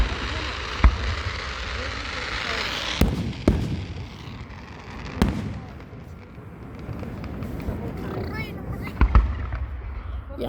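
Fireworks explode close by with repeated sharp booms and crackles over a steady rumble, while people talk in between.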